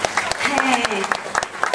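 An audience at a charity evening claps in a steady burst of applause beneath someone talking on a microphone.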